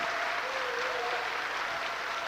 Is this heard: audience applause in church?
yes